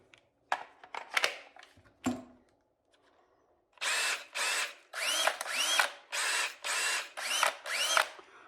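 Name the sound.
DeWalt 20V Max cordless drill running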